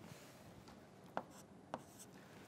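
Math is written on a board in faint, soft strokes, with two brief taps of the writing tool standing out over a quiet room hiss.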